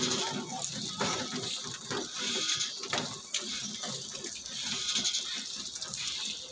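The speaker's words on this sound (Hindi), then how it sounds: "पानी मारा तुरंत आपको इफेक्ट दिख रहा है।" Water sprayed onto an air conditioner unit while it is being cleaned, a steady hissing splash running throughout at moderate level with scattered clicks and knocks, under faint background voices.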